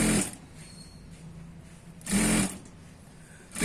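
A sewing machine stitches a straight seam on a Patiyala salwar in two short whirring bursts, near and fairly loud, with quiet pauses in between and a third burst starting at the end.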